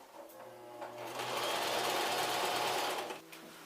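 A sewing machine stitches merino locks onto a base yarn for art yarn, its steady whirring rising to a sustained run through the middle and then easing off near the end, heard alone at close range.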